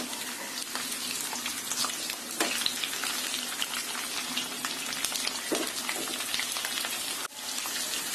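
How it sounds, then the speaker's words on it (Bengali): Cauliflower florets frying in hot oil, a steady close crackling sizzle throughout with occasional sharper pops and a brief dip near the end, no voices. "4-5 মিনিট আমি এই ফুলকপিগুলি তেলের মধ্যে ভেজে নেব।"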